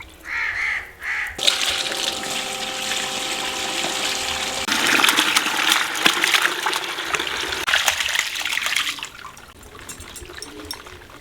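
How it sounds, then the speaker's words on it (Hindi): Tap water runs in a steady rush while chicken liver and gizzards are rinsed under it in a village kitchen, with crows cawing in the background. "खुले पानी के साथ हमने कलेजी भी और पोटे भी धो लिए"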